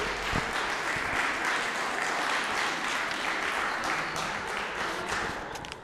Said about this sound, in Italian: Un applauso per i nostri due artisti.